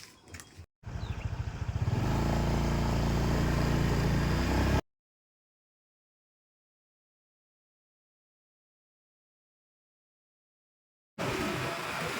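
Borrowed motorcycle starting off, its engine revving loudly and steadily up close for a few seconds, then cutting out into silence before the engine sound briefly returns at the end.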